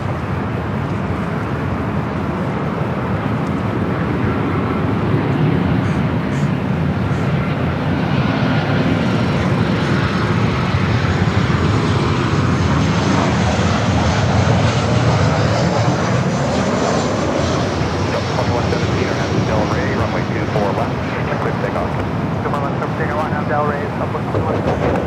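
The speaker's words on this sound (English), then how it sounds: "our next arrival here on the north side, a United 737 coming from" A United Boeing 737 arriving from SFO at LAX sounds as a long sustained jet roar that grows and shifts in pitch as it passes, loud and fairly near, with intermittent talking over it.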